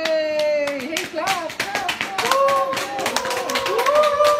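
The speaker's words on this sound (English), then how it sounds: "clap!" Hands clap in a quick, uneven run of sharp claps during an unboxing of a Flash Plus 2 phone, while lively voices talk and exclaim over them.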